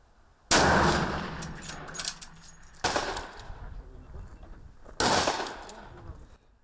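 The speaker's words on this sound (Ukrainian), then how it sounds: "Стріляють з гвинтівок, пістолетів та помпових рушниць." Three loud, sharp gunshots from rifles, pistols or pump-action shotguns at a shooting competition, spaced roughly two seconds apart, each ringing out with a long echoing decay across an open range.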